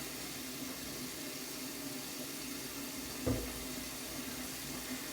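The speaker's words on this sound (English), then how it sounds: "Then I'm running the tap on cold right now so it gets nice and cold" A bathroom tap runs cold water into a sink after a wet shave, a steady close hiss with one brief clunk partway through and no talking.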